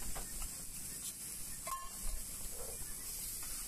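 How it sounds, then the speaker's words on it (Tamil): Beaten eggs poured over tomatoes in a pan give a soft sizzle and hiss, with faint scraping as they are stirred, a quiet, steady kitchen sound without speech. "நம்ம கலக்கி வச்சுருந்ததை ஊற்றி நல்லா கிண்டி விட்டுருக்கோம்"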